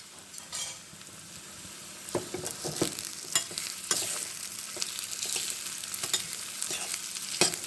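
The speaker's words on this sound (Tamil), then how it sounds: "இது பிரியாணிக்கு வறுக்கிற மாதிரி வறுக்கணுங்க வெங்காயத்தை." Onions fry in hot oil for a mutton dish, sizzling steadily while a utensil stirs and scrapes the pan in irregular strokes, close up and with no talk.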